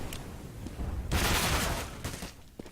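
Gunfire in a Counter-Strike: Global Offensive match, a rapid fusillade of shots bursting loud in the middle with scattered single shots before and after.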